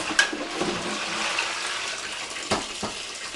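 Cooking utensils rinsed under a running kitchen tap: a steady hiss of flowing water with a few louder splashes and clinks as items pass through the stream, close and fairly loud.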